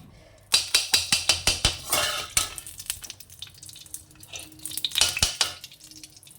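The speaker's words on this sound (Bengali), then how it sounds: "ঘি দিয়ে দিলাম এবার সুজিটা দিয়ে একটু লাল করে আগে ভেজে নেব" Semolina frying in ghee in a wok, with a quick run of evenly spaced scraping stirs followed by looser, irregular stirring strokes, close and clear over a soft background sizzle.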